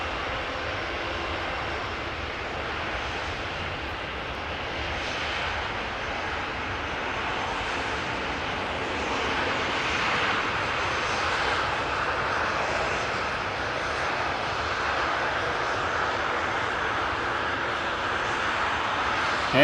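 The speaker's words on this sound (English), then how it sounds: "is KLM flight 605 787-10 Dreamliner going to San Francisco" A KLM Boeing 787-10 Dreamliner departs Amsterdam Schiphol Airport. Its jet engines give off a sustained roar that slowly builds in loudness, with no talking.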